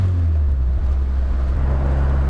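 An Indy RX5 car running a completely standard, non-turbo Mazda engine and Mazda running gear, driving along with a steady, close low engine drone and road rumble and no voices.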